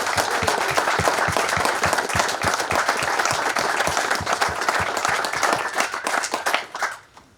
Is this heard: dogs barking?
no